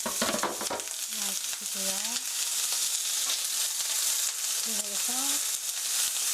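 Chopped onion and garlic fry in a pan for tomato-sauce spaghetti, a dense steady sizzle with a few stirring knocks, while a person speaks briefly over it.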